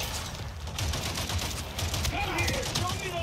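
Gunfire in Avatar: Frontiers of Pandora rattles in quick, scattered shots at moderate distance, mixed with ambient game noise and a voice speaking over it.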